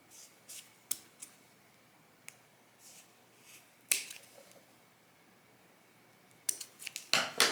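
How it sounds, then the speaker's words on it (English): Scissors trim little corners off the ends of corset boning, giving several sharp, close snips with quiet gaps between them and a quicker cluster of cuts at the end. "the way you prepare the end is by trimming off little corners like this"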